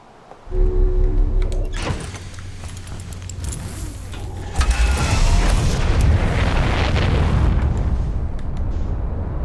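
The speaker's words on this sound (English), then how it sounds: "An orbital cannon almost hit us." An orbital cannon blast in the Outer Wilds video game, set near a space station, erupts as a heavy booming rumble after a low hum, then a sustained roaring, crackling wash of noise that stays loud.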